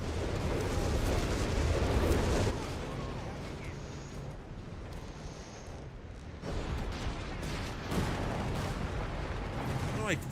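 Artillery shelling and gunfire from Company of Heroes 3, a dense barrage of booming blasts and rattling shots that runs the whole way. It is loudest at the start, eases in the middle and builds again, with some speech faintly underneath.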